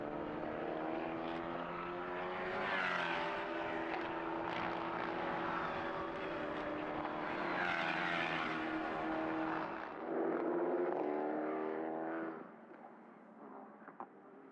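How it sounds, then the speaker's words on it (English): Prototype race cars roar around the Mugello circuit during an endurance race, their engines droning with rising and falling pitch as they sweep past, then fading away near the end. "It's been wonderful to see these cars blasting their way around this circuit."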